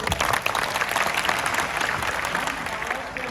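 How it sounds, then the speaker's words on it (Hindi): Loud, sustained applause from a large student audience filling a college lecture hall, a dense continuous roar of clapping with crowd noise throughout. "खड़े जाओ, इनके ताली बजाओ जोर से"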